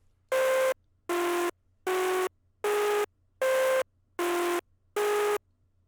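Synth melody for a new wave beat: seven evenly spaced, buzzy sustained notes with short gaps between them, stepping between two close pitches in a simple repeating figure over a faint low hum.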